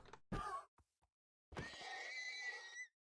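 A baby horse in Minecraft lets out a short whinny, then after a brief pause a longer, higher, wavering neigh, clear and close with nothing else beneath it.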